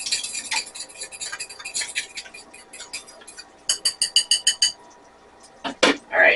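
Eggs being whisked with salt and pepper for a breakfast quesadilla, a fork tapping rapidly against the side of a bowl in quick rhythmic clicks, with a faster run of sharp beats near the end, close and fairly clear.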